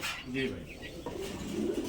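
Soft cooing of pigeons nearby, low warbling calls mixed with faint chirps, while someone talks over them.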